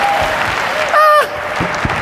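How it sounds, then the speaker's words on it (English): Audience clapping at a motivational insurance seminar, a loud dense wash of applause under crowd noise, briefly cut by a sustained electronic tone and a cheer near the middle. "And clap it up really big."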